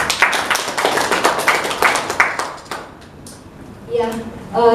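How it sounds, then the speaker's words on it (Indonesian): A school audience at an Indonesian teachers' dissemination session on positive school culture bursts into dense, loud hand clapping for almost three seconds, then it fades into quiet room noise before talking resumes. "Tepuk tangan untuk kita semua."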